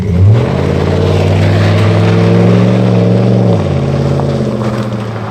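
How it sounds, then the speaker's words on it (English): A vehicle engine roars loudly and close as it accelerates away, its pitch climbing and then leveling off before the sound gradually fades, with no talking. "the driver hit the gas and took off"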